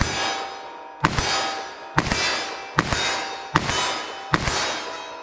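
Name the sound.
357 Magnum shot hitting a steel target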